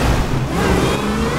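Car engine revving in the video game GTA 5, a loud close-up roar that holds steady with slight pitch rise over a second and a half, no voices over it.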